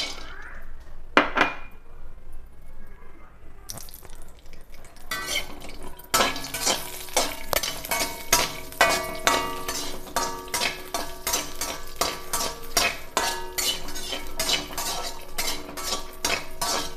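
Grated bottle gourd frying in ghee for halwa, stirred with a metal spoon that clinks and scrapes steadily against the pan, close and continuous after a few quiet opening seconds.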